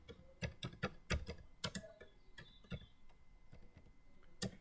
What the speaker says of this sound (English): I'll type this last one out because I didn't type the others.